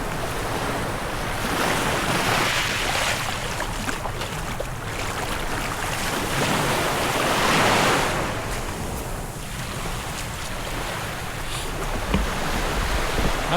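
Sea waves washing onto the beach at Palauig, Zambales, a continuous surging roar that swells and recedes, with wind buffeting the microphone.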